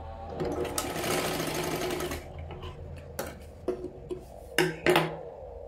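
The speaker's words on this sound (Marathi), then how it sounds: "हे सुद्धा आपल्याला दुमडून इथे शिलाई मारा." A sewing machine stitches a folded blouse seam in a steady mechanical run of several seconds, then stops and restarts in short bursts with small clicks and handling knocks in between.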